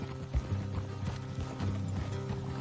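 Horse hooves clip-clopping in the Red Dead Redemption 2 video game, an irregular patter of hoofbeats at moderate distance over a low steady rumble, with no voices.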